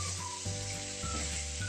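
Chicken pieces with salt, sugar, mushroom stock and cooked spice paste sizzle softly in a pan while being stirred, a faint low frying hiss broken by a few soft stirring bumps.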